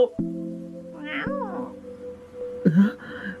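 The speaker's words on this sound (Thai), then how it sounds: "ออกมาเถอะ แมว" A cat meows several times, loud and close, with short drawn-out cries and a higher whining call toward the end.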